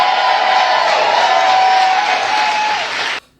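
Applause for the 2024 World Series champion Los Angeles Dodgers at the White House, a dense, loud burst of clapping with a few cheers that holds steady for about three seconds and then cuts off abruptly.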